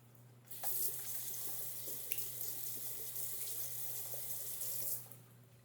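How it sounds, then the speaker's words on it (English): Hands are washed under a running water tap, a steady, bright rush of water into a sink that starts abruptly, holds for about four seconds, then cuts off, close and alone. "Now, after you're done washing your hands,"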